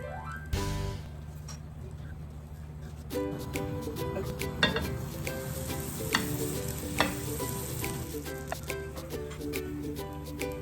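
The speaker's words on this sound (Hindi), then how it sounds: "ये बटर लगी हुई साइड में नीचे रखूंगी और इसको हम फ्राई पैन में थोड़ा सेक लेंगे।" A buttered chicken club sandwich toasts in a frying pan with a steady, moderate sizzle. Occasional scraping and tapping from turning or pressing it break in, with no talking.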